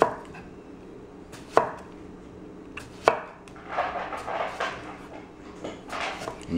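A knife slices a washed, skin-on cucumber into very thin slices on a cutting board for a portobello mushroom sandwich: a few separate sharp taps, then a quicker run of close, crisp cuts.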